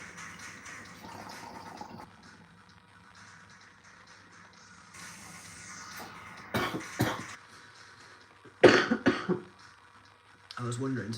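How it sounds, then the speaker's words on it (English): A person coughs a few times in harsh bursts, one then a cluster, between stretches of quiet talk and faint background noise. "I was wondering to see how long it would take me to cough."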